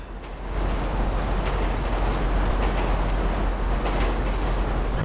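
A moving train rumbles in GTA Online on PS5, a steady loud low roar with rattling wheel noise that holds constant after a brief quieter start.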